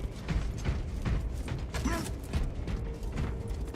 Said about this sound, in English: I have to reload.